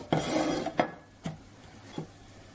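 Zucchini is sliced with a Tupperware slicer: a rasping slide, then a few sharp plastic clacks and thuds spaced out, close and moderately loud.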